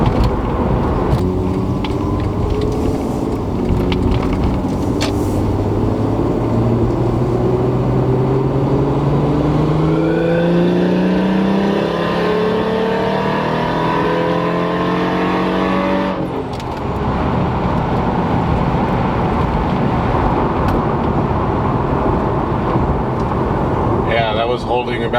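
A turbocharged Lexus IS300 running a CX Racing turbo kit drives with a loud cabin engine drone that climbs steadily in pitch through the gears, then drops off; a voice talks over the engine.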